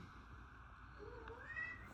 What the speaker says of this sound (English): My cat meowing in the background.